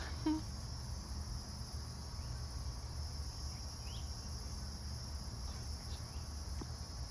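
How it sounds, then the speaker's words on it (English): A faint, continuous high-pitched drone of crickets carries on throughout, distant and unbroken, with no one speaking. "Why are the crickets going crazy?"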